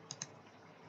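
Two quick, crisp clicks of computer keyboard keys sound close and faint as an email address is typed, followed by quiet room tone.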